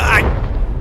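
A single loud gunshot blast fired at a shipping container booms and decays over under a second, heavy and close, with a voice speaking underneath.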